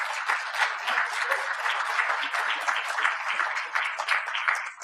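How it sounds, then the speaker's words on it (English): Applause from an audience at a veterans expo fills the room, an even, sustained rattle of many hands clapping at moderate volume without letup. "So a round of applause for Nikki."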